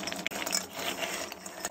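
Fizzy candy balls in strawberry, apple and blackberry flavours are mixed together, giving a quiet, continuous clatter and rattle of small hard sweets knocking against each other.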